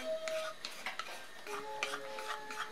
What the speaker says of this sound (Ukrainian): І кількома вправними рухами змішуємо наші вареники з засмажкою